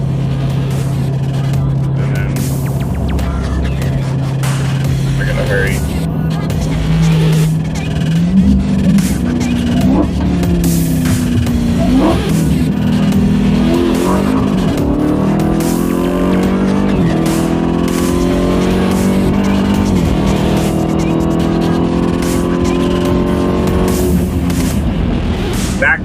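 A Dodge Hellcat accelerates hard on a 60-130 mph run, its engine roaring loud and steady as the pitch climbs through successive gears, with tire and wind noise beneath and no speech.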